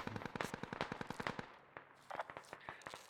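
Full-automatic rifle fire in the military shooter game Squad: a rapid burst of shots lasting about a second and a half, then shorter bursts after a brief pause, all fairly faint and distant.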